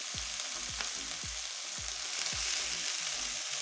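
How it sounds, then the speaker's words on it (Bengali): Vegetables including capsicum, green chilli and tomato are stir-fried in a pan for veg chowmein. A constant sizzle runs under roughly eight rhythmic scraping strokes of a spatula, close and with no voices. "দিয়ে ভালো করে নেড়ে চেড়ে একটু ভালো করে ভেজে দিলাম।"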